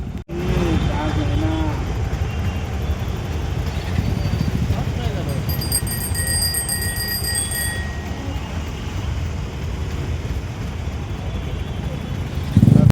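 Busy road traffic near a bridge: a continuous rumble of engines, with a bright bell or horn ringing midway and people talking nearby over the noise.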